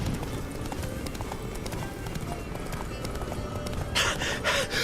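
Geralt's horse Roach gallops in The Witcher 3: Wild Hunt, with rapid, continuous hoofbeats close up and loud, and a sharper burst of hooves or a snort near the end.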